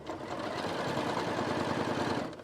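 A sewing machine stitches a pocket seam at a 2.5 stitch length, a steady close mechanical whirr with a fast regular needle chatter throughout.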